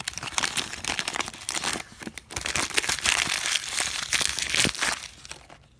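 Cardboard and paper packaging around a FIFA 15 Nintendo 3DS game, handled inside a DVD envelope: close, continuous crinkling, rustling and tearing with brief pauses, fairly loud throughout.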